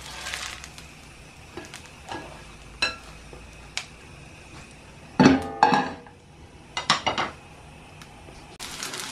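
Potato pancakes (deruny) and mushrooms being layered into a pot in a kitchen: scattered clinks and taps of utensils against cookware, with a few louder clattering bursts near the middle and end, close and without talk.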